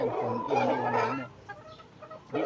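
Chickens cluck nearby in a short burst of throaty calls, then quieter scattered clucks follow.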